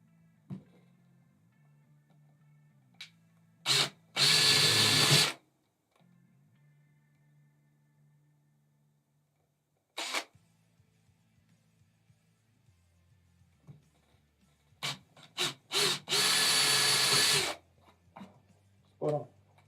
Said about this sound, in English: Okay, we can get the drill in there now and cut those out.